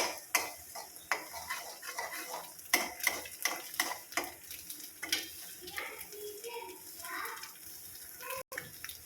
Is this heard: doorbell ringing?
no